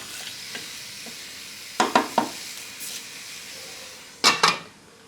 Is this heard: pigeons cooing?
no